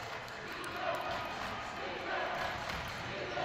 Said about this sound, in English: chanting defense in the background